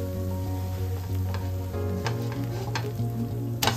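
Rava dosa fries on a hot pan with a loud, steady sizzle close by, with a few sharp utensil clicks and scrapes and no voices.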